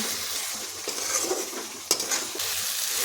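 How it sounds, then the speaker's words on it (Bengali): Spice masala with tomato, salt and turmeric stir-fried in a pan, giving a steady close sizzle with scraping stirring strokes and one sharp utensil knock, without any voices. "এখন মশলাটা ভালোভাবে কষিয়ে নেব"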